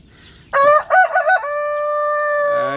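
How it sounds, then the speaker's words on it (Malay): A Black Sussex rooster from England crows once, loud and close, a long drawn-out call with a few short bursts leading into a sustained tonal note that fades at the end. "Ayam Black Sussex ni daripada England."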